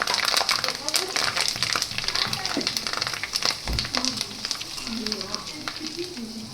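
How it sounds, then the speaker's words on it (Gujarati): Curry leaves frying in hot oil for green poha chevdo, a steady crackling sizzle with stirring scrapes, heard close while a person talks over it. "જો લીમડો તરાઈ ગયો।"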